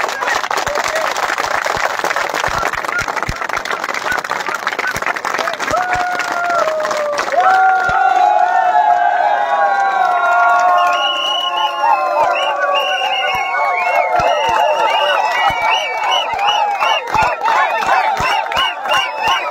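At the closing of a spiritual mass gathering, a large crowd claps steadily and loudly, then rising voices, cheers and chanting swell over the continuing applause for the rest of the stretch.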